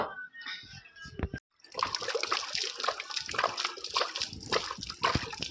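Water pours and splashes at an outdoor washroom tap, collected for sprinkling on the ground before drawing rangoli. Irregular sloshing and splattering runs steadily, fairly close, after a short quiet start.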